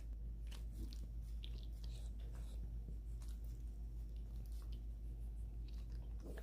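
The dog Mr. Beans chews on buttermilk-brined brisket fat cap, with steady close wet biting and chomping over a constant low hum, continuing without a break.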